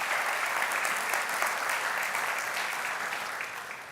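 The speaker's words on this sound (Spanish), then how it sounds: "Dale ese aplauso a Dios por eso." A church congregation applauds, a dense wash of clapping from many hands that holds steady and then gradually fades toward the end.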